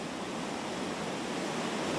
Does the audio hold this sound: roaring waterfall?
yes